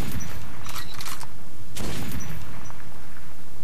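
A loud burst of rapid explosive blasts and booms in Metro 2033, a crackling barrage followed by a second heavy blast, with no talking.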